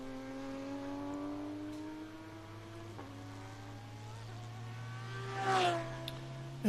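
Porsche Cup race cars, from 991s to 996s and 992s, racing at VIR: a steady, sustained engine drone with rising tones from several cars on track, a brief upshift near the middle and a louder swell as one passes close near the end.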